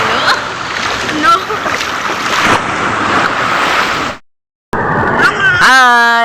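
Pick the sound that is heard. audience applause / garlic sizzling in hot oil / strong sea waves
strong sea waves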